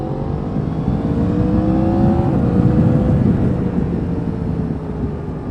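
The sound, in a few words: Yamaha MT-10 motorcycle engine revving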